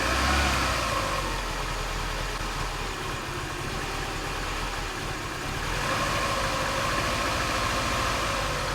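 Car engine idling steadily throughout while a Gunk Motor Medic Fuel Pro cleaner runs through the fuel system, a constant broadband hum with a low rumble, close and unbroken, with no talking.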